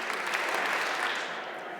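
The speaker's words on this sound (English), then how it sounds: "clap 3 times" Chapel meeting attendees clap together in a steady, fairly loud burst of applause that holds for the whole moment before tapering a little.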